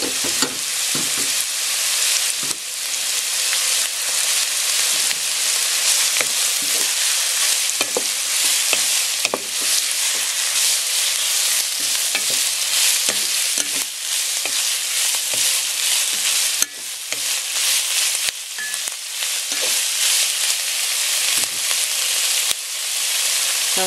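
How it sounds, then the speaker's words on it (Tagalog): Chicken and carrots sautéing in a pot for chicken macaroni soup, a steady loud sizzle of frying broken by repeated scraping and clanking of a utensil as the pieces are stirred. "Haluin po natin mabuti."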